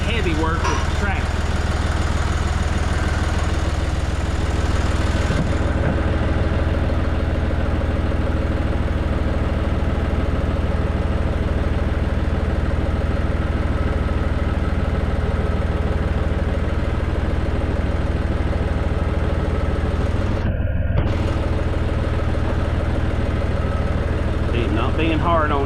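A tractor engine runs steadily while pulling equipment for cutting a sorghum field. The low, even drone continues without a break, with voices faintly over it.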